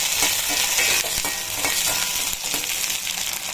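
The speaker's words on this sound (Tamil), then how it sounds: "சின்ன வெங்காயம் நல்லா வதக்கிக்கணும்" Small shallots sautéing in hot oil for a mutton curry, a steady broadband sizzle with frequent stirring scrapes and clicks, close and fairly loud throughout with no talking.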